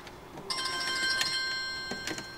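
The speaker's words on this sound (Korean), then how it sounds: "영상을 찍는데 전화가 참 많이 오네요." A phone's ringtone sounds in bright, tonal bursts during a front-view camera installation in a car, fairly close and clear with no talking over it.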